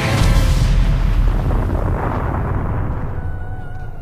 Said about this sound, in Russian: Взрыв не причинил вреда королю драконов.